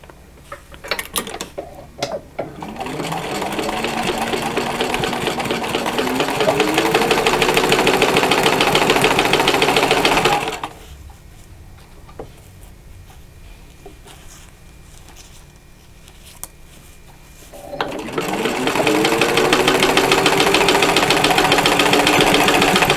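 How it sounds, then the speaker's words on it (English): A sewing machine stitches a zippered boxed pouch, running loud and steady in two long bursts with a quiet gap between them, its needle mechanism rattling rhythmically at close range. "And then I'm going to stitch this down."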